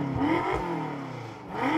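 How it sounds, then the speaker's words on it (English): A BMW fitted with an M Performance exhaust and carbon fiber tips revs up twice, its engine note sweeping up and falling back in two quick, close, throaty pulls. "Let's get a little rev time with Vanessa."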